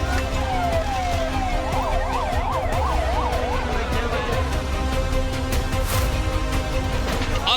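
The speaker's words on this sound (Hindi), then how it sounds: "सड़कों पर एम्बुलेंस का शोर सुनाई देने लगा" An ambulance siren wails at a building collapse site in Kota, Rajasthan, its rising and falling tone cutting through a dense, constant layer of street noise and traffic, with muffled voices in the background.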